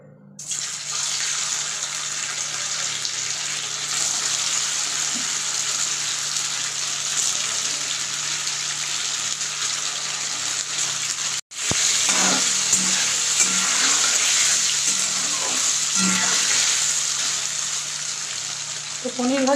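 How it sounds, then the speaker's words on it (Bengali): Paneer fries in white refined oil in a kadai, giving a loud, steady, close sizzle that runs almost twenty seconds with one brief cut, with light clatter and faint talk in the background. "এই যে পনিরটা আছে এটাকে ভেজে নেব।"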